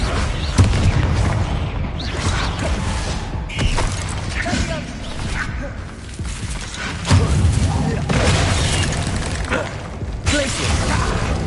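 Fire spell blasts in a Hogwarts Legacy duel, with repeated loud booms and crashes over a dense, chaotic battle din, broken up by short shouted incantations.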